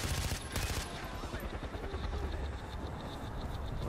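Sustained automatic gunfire in Far Cry 4, a dense rapid stream of loud close shots with heavy low rumble throughout, no pause across the few seconds.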